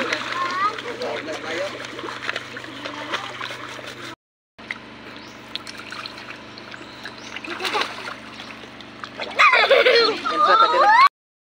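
Water splashes and sloshes as children bathe in a cool spring out in the countryside, with irregular nearby splashing and trickling under frequent talk and children's voices, including a louder burst of splashing near the end.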